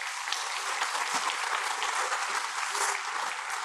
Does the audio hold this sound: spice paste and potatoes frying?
no